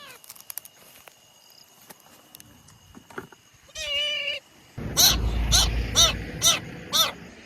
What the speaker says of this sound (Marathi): मला मांजराचा आवाज येते.